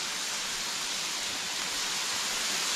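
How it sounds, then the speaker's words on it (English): Water squirted onto a hot Blackstone griddle at about 500 degrees hisses in a steady, loud broadband sizzle that holds evenly without a break. "we're gonna squirt some water on here"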